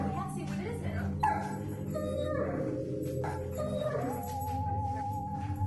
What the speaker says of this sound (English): the dog runs out, but then comes running back whimpering